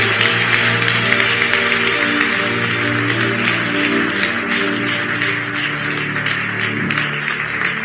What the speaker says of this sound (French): Nous l'acclamons tous.